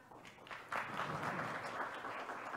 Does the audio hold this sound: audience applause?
yes